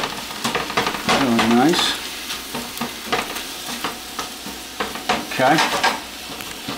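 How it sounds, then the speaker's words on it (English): Shrimp, beans, garlic and chilies fry in a pan over high heat, giving a steady close sizzle with stirring scrapes and clinks, while a voice speaks briefly over it. "So now we got our shrimp, our beans, our garlic, our chilies, and now we're just kind of cooking it down"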